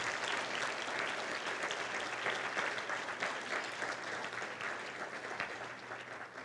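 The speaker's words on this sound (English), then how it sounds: "give them a round of applause for all the educators here" A room full of people at a community luncheon applauds steadily, a dense wash of clapping that holds for several seconds and eases slightly near the end.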